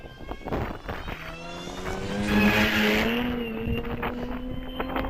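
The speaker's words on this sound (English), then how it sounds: "John Harding in the supercharged E-Type." A supercharged Jaguar E-Type at a British hill climb at Loton Park, its engine howling and rising in pitch as it approaches, peaking loud and close before pulling away through the gears.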